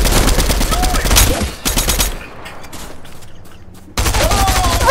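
Gunfire in the video game Fortnite: rapid automatic bursts, loud and close, break off for a couple of seconds and then resume in a dense volley.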